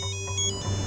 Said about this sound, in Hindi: इंस्पेक्टर पाटिल का फोन है।